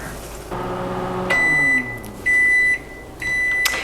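A microwave oven finishes cooking ground meat in a microwave-safe dish: the hum of the running oven stops, then three loud, close electronic beeps sound at even intervals.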